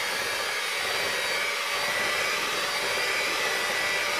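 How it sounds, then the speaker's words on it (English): Electric mixer whirring steadily as it blends sugar into banana split cake batter, a continuous close motor whine with a slight dip in the low hum near the start, no talking. "I'm going to blend it just a little more just to make sure that that sugar is all well blended"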